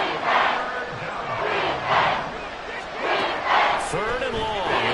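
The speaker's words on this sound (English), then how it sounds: "The Arrowhead crowd in full roar." A stadium crowd at Arrowhead roars during a Broncos versus Chiefs football video game, surging in repeated swells with a commentator's voice talking over it.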